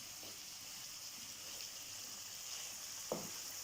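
Chicken tikka frying in a karahi, a faint steady sizzle and hiss with a few soft stirring scrapes and one brief clack near the end.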